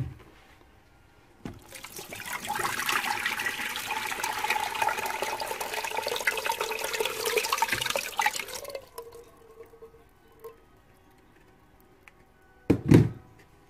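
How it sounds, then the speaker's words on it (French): Water pouring steadily into a Cookeo multicooker pot over two cans of condensed milk, a continuous splashing stream lasting several seconds, then a few drips and a sharp clunk near the end. "je vais recouvrir les deux boîtes d'eau"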